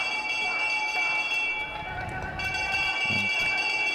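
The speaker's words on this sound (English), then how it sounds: "That's the bell for the last lap for the first starters." A last-lap bell rings at an ISU Junior World Cup speed skating race in Inzell. Steady ringing tones sit over loud, continuous arena noise.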